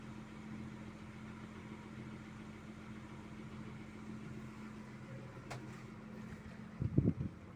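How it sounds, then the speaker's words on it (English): A yacht engine idling at about 1200 rpm while cruising near four knots, a quiet steady low hum throughout, with a short knocking burst near the end. "the engine is just idling along at about 1200 revolutions"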